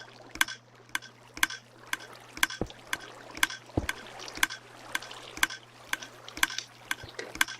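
Water flows in Minecraft while a sharp clicking repeats at a steady pace throughout, with a low constant hum underneath and a couple of brief thuds.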